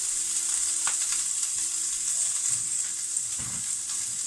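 Bacon sizzling in a hot oiled pan, a loud steady frying hiss with a few soft clunks as pieces settle, no talking.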